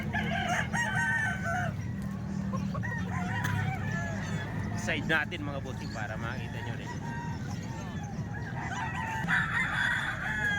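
Chickens and roosters for sale at a Philippine market, repeated clucking and a few crows close by, mixed with goose-like honks, while someone talks over them.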